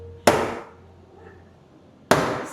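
Two sharp, loud hammer strikes about two seconds apart, each a bright broadband crack with a ringing decay, swung by a woman working on an FRS build with a 2JZ engine swap; a faint low hum fills the gap.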